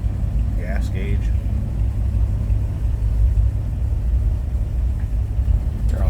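A 1954 Chevrolet 3100 five-window pickup engine idling smoothly, a steady low rumble close by, with faint brief voice or background sounds early on.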